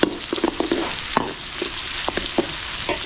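Pork menudo sautés with onion and garlic in a hot pan, giving a continuous bright sizzle broken by close, irregular clacks and scrapes of a utensil stirring, with no talk over it.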